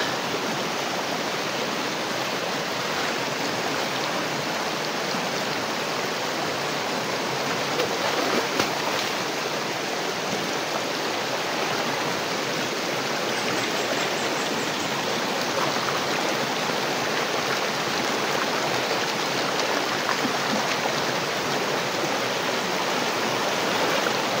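Creek water rushes steadily over an island stream bed on Burias Island, a continuous, dense hiss and gurgle that stays even and close throughout with no break.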